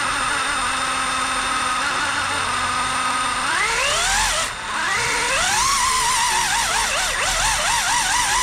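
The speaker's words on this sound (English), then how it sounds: "it's sputtering like that because the battery's in storage" A speed buggy's small electric motor whines at close range, then sputters, rising and dipping in pitch in uneven surges with a brief dropout midway.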